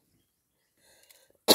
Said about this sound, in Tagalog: Ayoko nang magsalita kasi inuubo ako ito